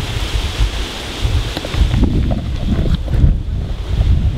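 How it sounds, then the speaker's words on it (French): Strong wind buffets the microphone in loud, low rumbling gusts, swelling and easing continuously with no voices. "C'est quoi ce vent là?"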